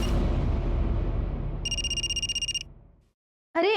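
A telephone rings in a Hindi crime drama, a single electronic ringing burst rising out of fading background music, then a brief silence.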